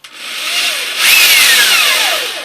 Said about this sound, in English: I want to drill a hole here and here